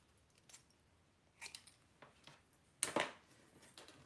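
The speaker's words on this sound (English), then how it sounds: "And then whack the sides with my scissors." Scissors trim the sides of a paper greeting in a quiet room, with a few faint snips and one sharper, louder cut near the end.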